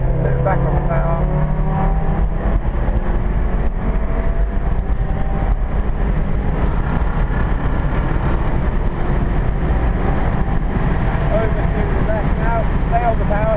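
An Abarth 124 Spider accelerating on the Silverstone circuit, its engine note rising through the revs in a loud, continuous drone with wind and road roar, while an instructor's voice coaches over it.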